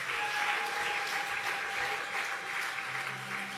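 A church congregation claps and applauds steadily, a dense continuous wash of hands without pauses, with a faint sustained tone underneath and no speech.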